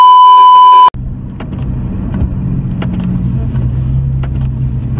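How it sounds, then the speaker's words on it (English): A steady electronic beep cuts off abruptly, then a car's low interior engine rumble carries on with faint clicks and rattles. "we're in the car driving now"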